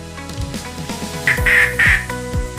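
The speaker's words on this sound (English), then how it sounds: "Duck." A duck gives a couple of short nasal quacks over a rhythmic background music loop with steady beats.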